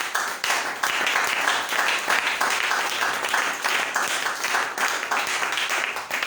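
Congregation at an open-Bible church seminary applauding to acclaim the Lord, a loud, continuous burst of clapping from many people lasting several seconds.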